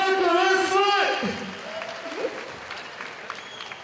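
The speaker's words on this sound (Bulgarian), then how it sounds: "Фердун Османов, Варна, аплодисменти!" Crowd applause at a cage fighting event, as an announcer's amplified voice introduces a fighter, then clapping and scattered cheers carry on beneath him and slowly fade.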